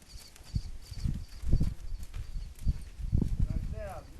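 A horse's hooves step slowly across the ground as she is walked forward during groundwork training, a handful of soft, uneven thuds close by with someone talking over them.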